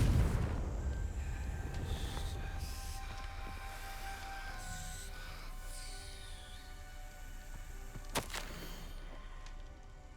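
Confringo blasting spell in the game Hogwarts Legacy goes off with a heavy boom at the start, then a long rumbling decay under shimmering magical tones, with a sharp crack near the end.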